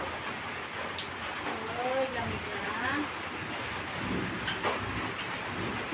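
Steady rain pours down outdoors while a child bathes in it, a constant hiss under a voice speaking briefly.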